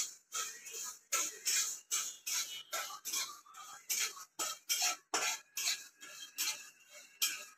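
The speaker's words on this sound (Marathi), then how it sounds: "धने, दालचिनी, हिरवी विलायची, लवंग आणि मिरी एवढं भाजून घेऊया." Whole coriander, cinnamon, green cardamom, cloves and pepper are dry roasted in a pan for a Rajasthani curd chutney, making a rhythmic run of rattling, scraping stirs, close and steady, each burst separated by brief pauses.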